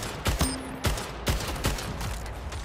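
SMG gunfire in the Splitgate video game comes as a few quick, loud bursts of shots spread over a couple of seconds against a dense background of game sound.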